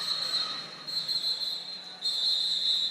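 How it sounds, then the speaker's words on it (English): Referee whistles in a roller derby bout marking the end of a jam: a shrill sustained tone joined by a second louder blast, over the hum of a crowded indoor venue. "those whistles means the end of the jam"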